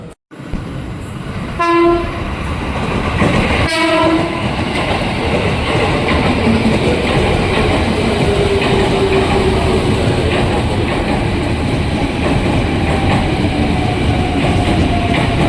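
A ten-car KRL commuter train bound for Jakarta Kota pulls into Juanda station, two short horn blasts followed by a loud, steady rumble and screech of wheels and cars rolling in close by.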